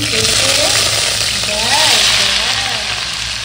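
Vegetables sizzle and fry in hot oil with a steady, loud, continuous crackle throughout, while a voice speaks faintly over the top.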